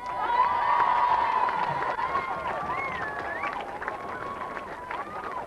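Crowd cheering and shouting with some clapping at a band festival in Mullingar, loud at first and easing off, with voices and whistles rising through the noise.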